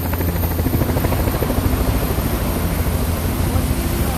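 Loud, close private helicopter landing beside Hudson River Park in New York City, with a rapid, steady rotor chop and engine roar filling the whole stretch.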